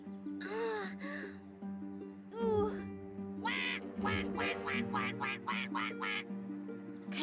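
A cartoon duck quacks again and again in quick, bright bursts, mixed with a few gasps and sighs. The quacks come in an uneven run and grow busier toward the end.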